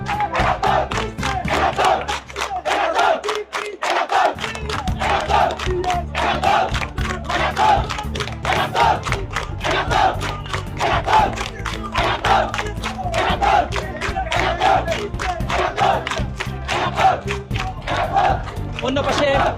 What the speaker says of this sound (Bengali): সিনেট ভবনে আমরা দেখতে পাচ্ছি শিক্ষার্থীদের উল্লাস